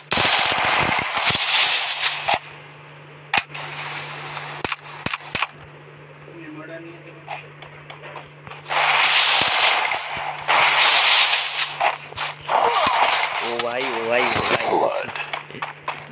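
Video game gunfire rattles in rapid automatic bursts and sharp single cracks, loud and close, coming in clusters with short gaps while someone talks over much of the action.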